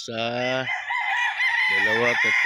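A rooster at a game farm crows loud and close, two long strained calls with a break between, ending in a few clipped notes, with no talk over it.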